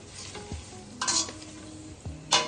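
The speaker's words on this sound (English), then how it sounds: "I've already turned off the heat, so it's just a little sizzle left" A soft, fading sizzle of shrimp frying in a pan with the heat already off, with a couple of clinks and scrapes of a utensil stirring.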